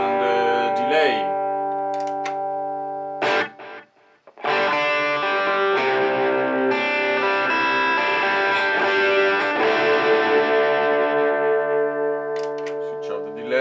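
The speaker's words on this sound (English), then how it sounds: "can switch on the delay." Electric guitar with a delay effect through a Kemper Profiler amp, notes ringing and repeating into long sustained tones, broken by a short near-silent gap before a thick chord swells.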